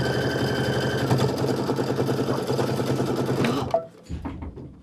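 An embroidery machine stitching out a quilt block in black thread, a rapid steady mechanical chatter of the needle that runs loud and close, then stops abruptly near the end, leaving quiet handling sounds.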